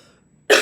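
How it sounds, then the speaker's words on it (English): A single sharp cough bursts out close to the microphone after a near-silent pause, ending the moment abruptly. "Excuse my coughing."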